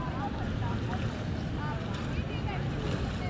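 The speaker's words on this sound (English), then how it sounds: "the wind also came back up" Wind blows steadily outdoors beside the water while cane pole fishing, buffeting the microphone with a constant close rumble, and faint voices can be heard beneath it.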